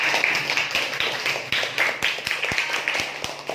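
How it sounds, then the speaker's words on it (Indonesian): Sixth-grade pupils in a classroom clap together in quick, fairly rhythmic bursts over several seconds, loud and close, with children's voices mixed in. "Beri tepuk tangan dulu dong buat semuanya"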